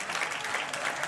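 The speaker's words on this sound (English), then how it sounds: "put your hands together and give these fighters a nice warm round of applause" Audience applause for boxers at a fight night in Africa, a steady dense wash of clapping from a crowd filling the whole short moment without pause.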